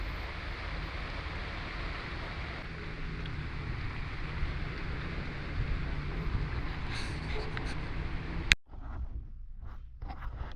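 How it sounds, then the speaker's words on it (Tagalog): Wind and rain outdoors in Lebanon, a steady broad rushing noise buffeting the microphone for most of the clip, cut off by a sharp knock and then near silence. "Weather ngayon dito mahangin na umuulan."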